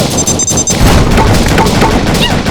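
Rapid gunfire and booming explosions from the fast-paced action shooting game Tiny Squad, with cute tiny soldiers, form a loud, dense, continuous barrage with game music underneath.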